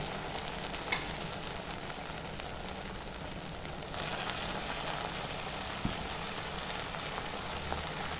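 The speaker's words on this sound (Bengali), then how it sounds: "শাকগুলো নিয়ে আমি সব কড়াইয়ের মধ্যে আমি দিয়ে দিয়েছি।" Washed red amaranth greens frying in a full kadai, a soft steady sizzle and hiss heard close but fairly quiet, with a couple of faint clicks and no talk.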